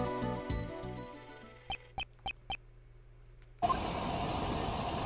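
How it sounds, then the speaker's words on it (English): In a video game, soft electronic tones and a few sharp clicks give way to a sudden loud, steady roaring hiss from a hot air balloon. "This is the sound of hot air balloon."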